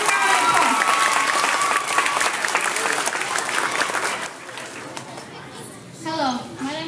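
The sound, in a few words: school audience applause for a guest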